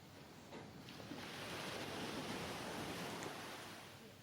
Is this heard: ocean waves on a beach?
yes